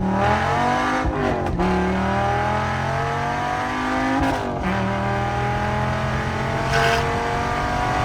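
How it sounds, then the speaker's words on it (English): A Dodge Viper ACR engine revving hard and loud, its pitch climbing and dropping through several gear changes, with brief tire squeal, close and without talk. "what I want with it is to roast tires, burn gas, and take it to the racetrack"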